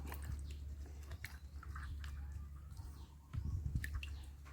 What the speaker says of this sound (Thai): ล้างเอาดินออกนะคะ ให้เห็นหัว